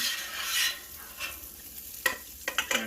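Pork fried rice sizzling on a 36-inch Blackstone griddle, with a soft steady fry and a few sharp scraping clicks of a spatula near the end, no talk.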